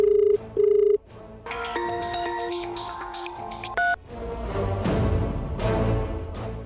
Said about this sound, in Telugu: నీకు ఫోన్ వస్తుంది చూడు.